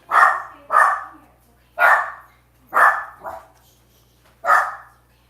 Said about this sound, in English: Sorry, my dog's going crazy.